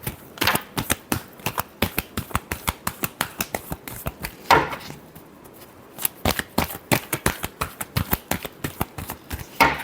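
Tarot cards shuffled over and over in a steady run of crisp riffling flicks, close and fairly loud, with one short pause partway through and no talking.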